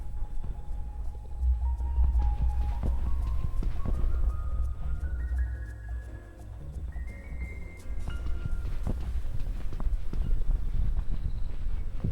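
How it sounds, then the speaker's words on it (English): Footsteps sound in the video game The Complex as a steady run of soft thuds and clicks, close and continuous, over a low droning rumble and a slowly rising tone, with no talking. "I swear I'm hearing footsteps that aren't mine."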